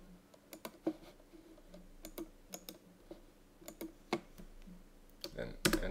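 A command is typed into the Ubuntu terminal on a computer keyboard: sparse, irregular keystroke clicks close to the microphone, and a louder cluster of taps at the end.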